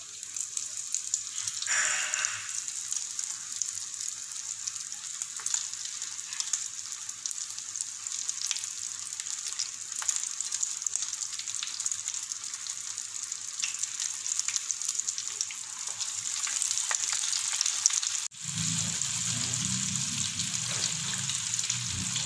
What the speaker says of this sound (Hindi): अब हम इसको घी में फ्राई कर लेंगे।